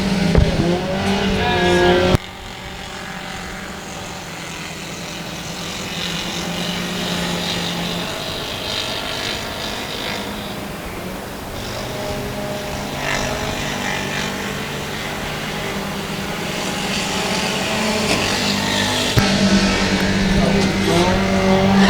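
Race cars roar around the dirt track at Boyd Raceway, their engine drone rising and falling continuously while an announcer talks over the racing.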